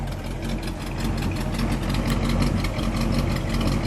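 A 1959 Pontiac Bonneville convertible with a Tri-Power V8 idles steadily up close, a loud, even low rumble with a rapid pulsing beat and no voices.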